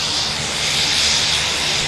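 A Bemidji Aviation aircraft's engine runs steadily at MSP airport, a continuous broadband roar with a bright upper hiss that swells slightly mid-way, close and loud with no voices.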